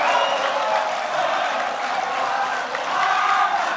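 A large audience at a 2014 Indonesian presidential debate gives sustained applause, a dense, steady wash of clapping and crowd noise throughout.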